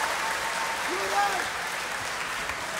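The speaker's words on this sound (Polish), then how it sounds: "Brawa dla was!" Festival crowd at Woodstock 2017 applauding in a large outdoor gathering, a steady wash of clapping that carries evenly throughout, with a brief whistle or voice rising above it partway through.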